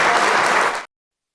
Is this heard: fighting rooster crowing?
no